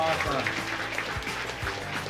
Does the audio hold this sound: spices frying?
no